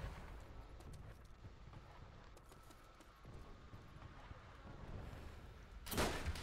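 A grenade blast in Call of Duty: World at War multiplayer, arriving as a sudden loud burst near the end, after a stretch of steady gunfire and battle noise.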